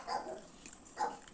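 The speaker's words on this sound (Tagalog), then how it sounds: "Yung aso isa dito naghihingi ng pagkain." Two short whimpering yelps, about a second apart, come from a nearby dog begging for food, soft and fairly quiet against a faint background.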